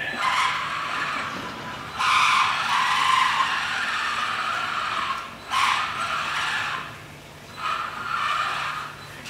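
An RC Formula 1 car's tires skid and squeal across a slippery, dusty indoor floor in three bursts, each a harsh bright screech that starts abruptly and fades, with quiet gaps between and no talk.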